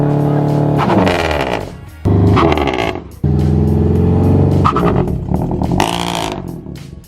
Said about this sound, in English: your boy finally learned how to do a burnout